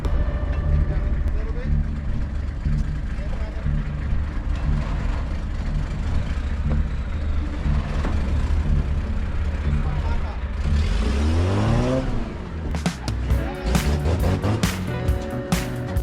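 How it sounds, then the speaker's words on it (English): An unlocked 80-series 4WD drives off-road on a slippery wet track. Its low engine drone rumbles steadily and loudly throughout, shifting in pitch near the end as the vehicle works harder. "wonderful drive from Jay and the little unlocked 80"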